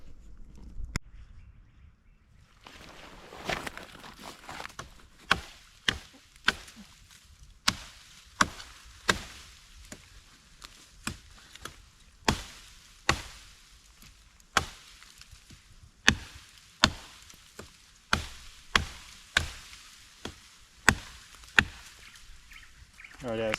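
Bushcraft knife chops into a 2-inch thick piece of wood outdoors, sharp single strikes repeating at an uneven pace, close and distinct, with faint birds and brief talk between blows.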